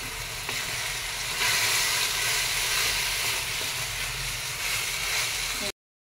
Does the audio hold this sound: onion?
yes